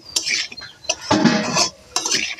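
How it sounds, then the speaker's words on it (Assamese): A metal spoon stirs eggplant into a salted spice mix in a pan, making several bursts of scraping and clinking against the pan with short pauses between strokes. "বেঙেনাটো দি পেলাই ভালদৰে মিক্স কৰি লৈছোঁ"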